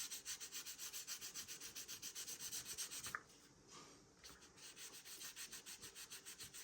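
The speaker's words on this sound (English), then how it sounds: "I got some cut up 3000 Tamiya sanding sponge, and I'm gonna dip it in water" A water-dipped Tamiya 3000-grit sanding sponge rubs back and forth over a painted model car surface in quick, even strokes. It pauses briefly, then the strokes resume, close and soft, with no talk.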